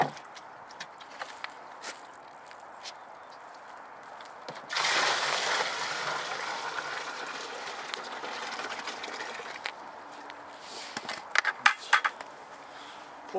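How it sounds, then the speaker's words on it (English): Water splashes out of a deer skull being emptied outdoors, a sudden broadband pour lasting several seconds amid scattered clicks and handling knocks, moderately close. "pour the water off."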